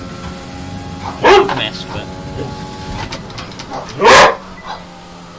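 A dog barks twice while doing tricks for its dinner, one bark early and a louder one near the end, each short and sharp, heard over quiet talk and a steady background hum.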